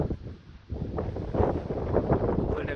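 Cold wind gusting across the Tatra mountains, a continuous rough, buffeting rush hitting the microphone close up and swelling louder partway through.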